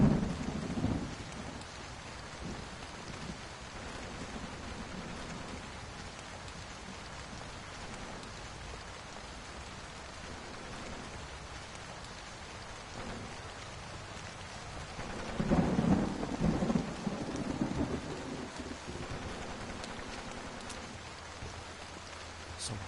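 Steady rain pours with rolling thunder in the video game Portrait of Torn, a continuous wash of rainfall with a louder thunder rumble swelling midway, no voices.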